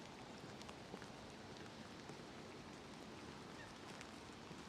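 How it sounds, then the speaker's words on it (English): Steady rain patters on cherry blossom trees in Japan, a soft, even hiss that holds unbroken throughout at a faint level, with no voices over it. "Rain is starting to come down a little bit stronger now."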